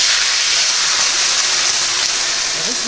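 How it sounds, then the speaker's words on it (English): Steak sears in clarified butter in a cast iron skillet, giving a loud, continuous close-up sizzle that stays dense and even throughout. "Now we're just going to go ahead, throw it in, and get it seared off on both sides."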